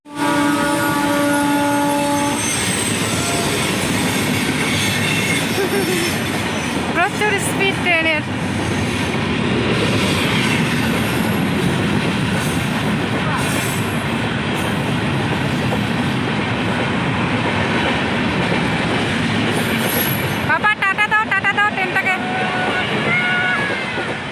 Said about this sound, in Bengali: দেখো ট্রেন চলে আসছে